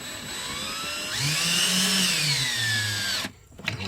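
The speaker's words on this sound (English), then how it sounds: "I'm going to drill this in, screw it in." A power drill drives a screw while installing a battery charger on a boat, whirring close by, its pitch rising as it bites in, then winding down and stopping with a brief clatter.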